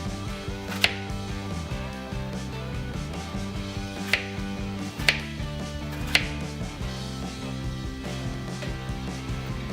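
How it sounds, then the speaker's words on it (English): A few sharp knife chops through apples on a cutting board, irregularly spaced, heard over continuous background music. "Cut down each apple into 4 pieces."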